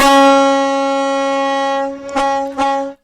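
A Washington State Ferry foghorn sounds one loud, sustained blast lasting nearly three seconds. The deep, steady tone wavers twice near the end before cutting off abruptly.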